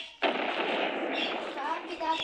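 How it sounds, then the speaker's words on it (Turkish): A sudden loud blast from a video game grenade explosion, sharp onset then a long rumbling, crackling decay lasting about two seconds. "Met el bombası patladı."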